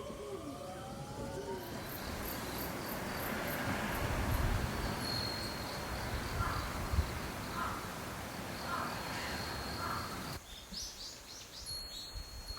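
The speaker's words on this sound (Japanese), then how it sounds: "気のせいか、鳥や虫の声、川の音が昨日より大きく聞こえる。" A quiet rural outdoor scene in the Japanese countryside: a steady wash of running river water under repeated insect chirps and birdcalls, including cooing, all fairly soft and distant, with no talk.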